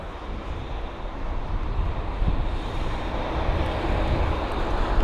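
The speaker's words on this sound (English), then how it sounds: "He is actually going to be heading to Calgary, the 787 Dreamliner" Air Canada Boeing 787 Dreamliner, flight AC851 bound for Calgary, at London Heathrow, giving a steady broadband jet roar that builds slightly over several seconds at moderate distance, with no voices.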